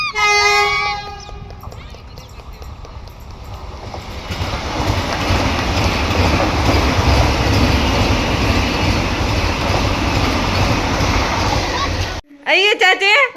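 A Vande Bharat train rushes past with a loud, sustained roar and rattle for several seconds, then cuts off abruptly; people talk briefly before it arrives and again as it ends.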